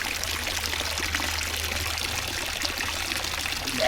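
Cold water from a nearby waterfall pours in a continuous rushing stream, a dense steady wash of noise that holds level for several seconds with a low hum underneath.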